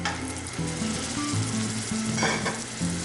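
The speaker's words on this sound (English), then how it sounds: "we're just gonna throw a little bit of this bacon grease in here to help sear our tenderloin" Beef tenderloin searing in hot bacon grease in a pan, with a constant close sizzle and crackle that swells briefly near the end.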